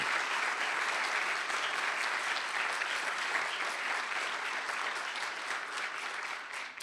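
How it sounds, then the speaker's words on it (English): Sustained, steady applause from a standing audience at a state bill signing by a governor, dense and continuous throughout before easing slightly at the end. "stand up and give a great round of applause to Sharon and Jenny"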